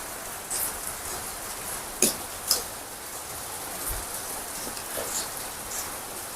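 In a village, rain falls as a steady, soft hiss that continues throughout, broken by a couple of brief louder drips or taps near the middle.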